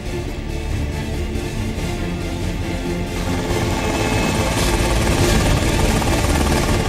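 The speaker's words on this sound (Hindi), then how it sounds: "आखिरकार वायुसेना के हेलीकॉप्टर के जरिए रेस्क्यू ऑपरेशन को अंजाम दिया गया" Indian Air Force helicopter on a flood rescue, its dense, steady rotor and engine roar filling the scene loudly and continuously without letup.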